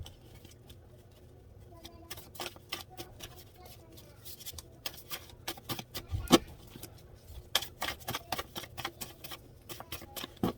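Quiet, irregular papery riffling and soft taps of a deck of cards being shuffled close by, with a sharper snap partway through.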